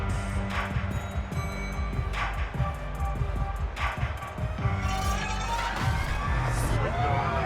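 A home crowd in Madden 22 football cheers and whoops in a steady roar with rising swells, under faint commentary talk.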